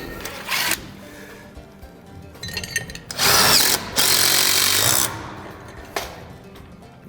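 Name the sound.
nut driver driving long 8-inch screw into hanger bracket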